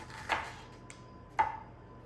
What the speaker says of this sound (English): So I'm just gonna slice up as thin as possible, a few slices of onion for me.